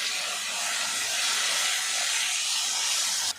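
Diced potatoes fry with spices and curry leaves in a hot pan, a loud continuous hissing sizzle that fills the whole stretch and drops off sharply just before the end.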